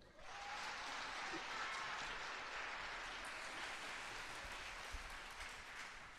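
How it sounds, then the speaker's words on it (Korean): A large audience at a commemorative ceremony claps steadily, a broad continuous wash of applause heard from a distance at low level. "여러분 큰 박수 한번 주실까요?"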